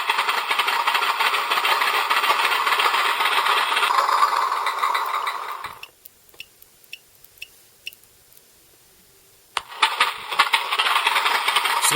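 A MrRCSound engine sound module runs a loud, buzzy engine note that cuts out, leaving a few faint clicks in near silence, then the synthesized engine bursts back into start and idle.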